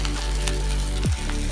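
A wet chili and turmeric paste hits onion, ginger and garlic frying in oil for a spicy fish curry, making a loud, continuous close sizzle. A sharp spoon scrape or clank comes near the end.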